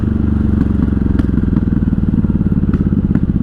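A 1983 Honda Shadow VT750C V-twin motorcycle under way, its loud, steady low engine burble pulsing unevenly throughout with occasional clattering ticks, heard up close from the rider's position.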